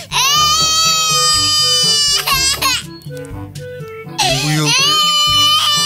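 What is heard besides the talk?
baby crying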